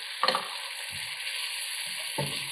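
Boneless chicken frying in masala paste in a handi; a constant hiss of sizzling oil with a few scraping stirs, close and fairly steady, without voices.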